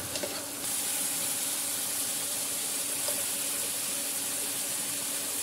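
Garlic and Kashmiri red chilli paste sizzles in hot oil in a pan, a steady close frying hiss that carries on evenly with no talking.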